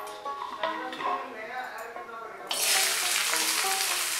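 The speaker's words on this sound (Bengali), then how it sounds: "গাজর আর মটর দিয়ে ভালো করে ভেজে নেবো" Carrots and frozen peas fry in oil in a wok, a soft sizzle under a person talking that swells into a loud, steady hiss partway through, as if the pan heats up or fresh vegetables hit the oil.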